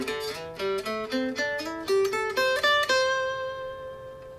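A short melodic guitar lick, single notes picked in quick succession, ending on a sustained ringing note, played alone and clearly.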